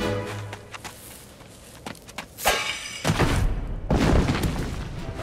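A mine explosion in the Puss in Boots video game begins with scattered thuds and a sharp crack, then breaks into a loud rumbling boom that swells again into a second heavy burst.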